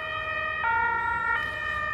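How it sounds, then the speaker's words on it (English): A German ambulance siren blares close and loud, alternating between two pitches with a clean harmonic tone. It rises over a low rumble of road noise and passing traffic, with no voices. "That's how a German ambulance sounds like."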